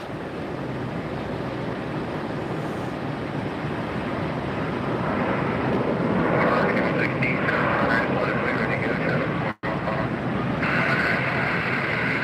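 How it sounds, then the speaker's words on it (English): A WestJet airliner approaching Tampa airport gives a steady, distant broadband roar that slowly builds and brightens, heard outdoors with wind noise throughout. "Looks like another WestJet coming in."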